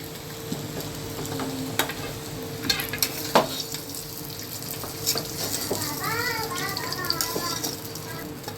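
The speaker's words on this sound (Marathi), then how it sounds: "चांगली केळी फ्राय करून घेतले." Bananas frying in a pan give a steady close sizzle with occasional utensil clicks and taps, while a voice speaks briefly in the background.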